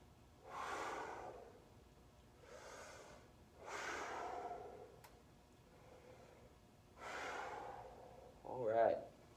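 Deep breathing exercise done while leaning over toward the floor: four slow, breathy inhalations or exhalations spaced a couple of seconds apart, close and fairly soft, ending with a brief sharper snort-like breath.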